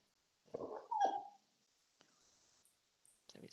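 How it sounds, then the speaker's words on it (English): A puppy barks twice in quick succession at a council commissioners' meeting, a short sharp yip followed by a higher whining bark, fairly close, then near-quiet with a few faint clicks. "Puppy."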